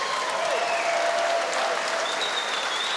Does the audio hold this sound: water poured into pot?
no